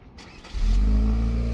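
A Gen 2 Chevrolet Cruze with a newly installed BNR downpipe starts up. There is a brief starter whir, then the engine catches into a steady, loud, low idle drone that holds to the end.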